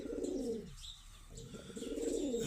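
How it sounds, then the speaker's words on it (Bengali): Giribaz pigeons coo in a pigeon loft, low rolling coos rising and falling close by, with faint chirps from other birds overhead and a soft pause midway. "এই যেটা হচ্ছে মা কবুতর, দেখছেন?"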